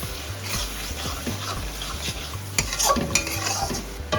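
A pinch of sugar is stirred into hot oil in a pan, giving a close, steady sizzle broken by repeated scraping strokes of a spoon against the metal.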